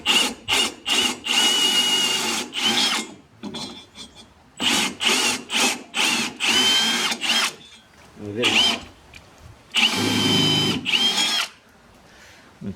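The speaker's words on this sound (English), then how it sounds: "and then we'll drill the second hole." A power drill bores a hole into a wooden veranda hand rail post in repeated loud, close bursts of whining and grinding, separated by short pauses.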